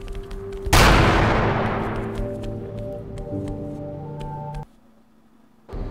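A single loud video game gunshot bursts out, then its boom decays slowly over several seconds beneath steady game tones and music before the background cuts away.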